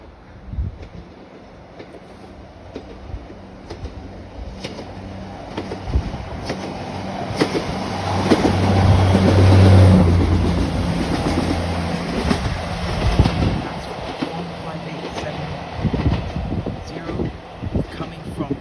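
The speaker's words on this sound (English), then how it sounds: "And here's the train coming." A train approaches and crosses the railway bridge at Evanton on the line toward Inverness, its rumble building to a loud peak around the middle before easing away, with a voice speaking over it.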